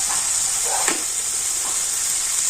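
Softened tomato with turmeric and ground coriander sizzles steadily in a frying pan, a close, constant frying hiss with a few brief stirring scrapes and no talk.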